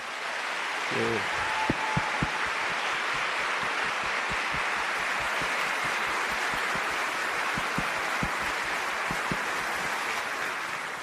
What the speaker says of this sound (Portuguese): Eu queria pedir uma salva de palmas para os nossos palestrantes